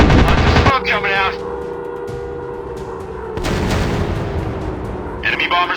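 Gunfire strikes a plane during an aerial dogfight in the Warplanes WW2 Dogfight game, with F4F Wildcat and SBD Dauntless aircraft: loud, dense bursts of rattling shots over a steady engine roar, in two clusters at the start and end.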